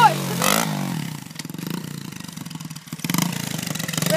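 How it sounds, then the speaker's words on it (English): A Yamaha TTR 90cc dirt bike engine revs up in a couple of rising bursts between lower idling stretches, heard nearby and fairly loud. "Hey, rev it up for us!"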